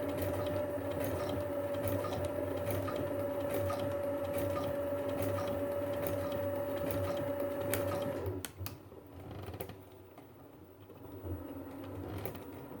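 A sewing machine stitches bias tape onto a hot pad, running in a steady fast mechanical whir with a high motor whine for about eight seconds, then stops, leaving a few faint clicks and handling noises.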